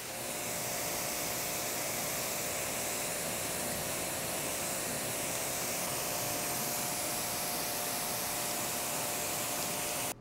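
A water spray rinses a car during a wash, a dense, steady hiss of pressurized water held close and constant for the whole stretch, then cutting off abruptly at the end.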